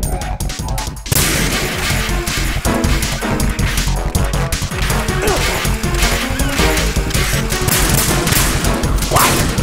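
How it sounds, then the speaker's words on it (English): Nuclear missile launches in a war strategy game come as a loud, dense barrage of crashing, booming blasts that run without a break after a short, sharp opening burst, with no voices. "Nuclear launches."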